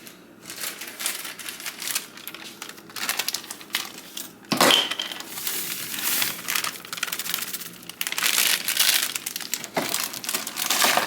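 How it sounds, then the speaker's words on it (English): Crinkly plastic packaging of a gluten-free dessert product rustles and crackles continuously as scissors cut it open, with sharp snips and crunches close by, no voices. "I got some scissors to open this."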